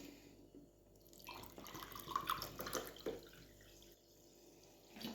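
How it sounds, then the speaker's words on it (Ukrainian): Mineral water poured from a glass into a bowl, with soft splashing and trickling building through the middle of the clip before easing off, close and fairly quiet, no talk. "Ось так наливаю одну скляночку, виливаю до мисочки, так, і другу наливаю."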